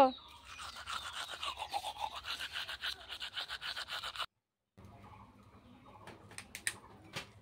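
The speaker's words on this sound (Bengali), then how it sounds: "তো এখন দাঁতটা ব্রাশ করছি।" Teeth being brushed with a toothbrush: quick rhythmic scrubbing strokes, close and fairly quiet, stopping briefly midway and then resuming with lighter scrubs and a few clicks.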